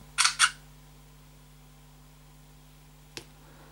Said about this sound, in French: Cette prise en rafale va prendre 5 clichés